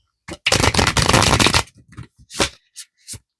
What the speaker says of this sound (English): Oh, that was a terrible shuffle.